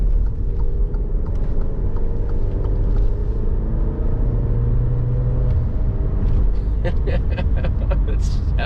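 A 2021 Alfa Romeo Giulia Sprint Q4 AWD accelerating down a ramp to highway speed, with a low engine rumble that builds and shifts under road and cabin noise and some scattered knocks near the end.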